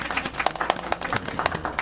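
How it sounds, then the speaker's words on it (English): Applause breaks out at a community redevelopment agency board meeting, a small group clapping in quick, uneven bursts of sharp hand claps that carry close and steady through the brief moment. "I think she deserves a round of applause."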